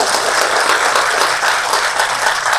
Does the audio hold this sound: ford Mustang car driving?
no